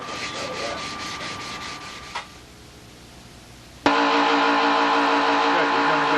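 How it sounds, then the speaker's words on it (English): Steady abrasive rubbing of sandpaper on wood, continuous and close, shifting in pitch and growing louder partway through. "Keep sanding!"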